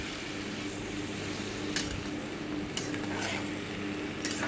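Boiled leafy greens stirred with ground spice paste in a pan: a soft, steady sizzle with a few sharp scrapes of the spatula at intervals, fairly quiet and close, with no talking.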